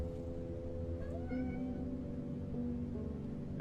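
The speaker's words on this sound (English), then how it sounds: "I'm gonna pet this cat some more." A cat in a video game meows a few times in drawn-out, wavering calls over a low, steady game background hum, close and clear with no talk.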